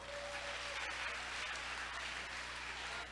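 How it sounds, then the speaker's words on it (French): An audience at a Miss USB 2016 pageant finale claps in a steady, muffled wash of sound over a constant low hum, with no break for three seconds. "vous avez aimé, donc vous applaudissez encore"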